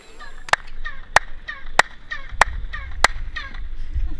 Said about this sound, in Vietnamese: một hướng dẫn viên thử liên tục vỗ tay và nghe thấy âm thanh vọng từ bên trong như điệp khúc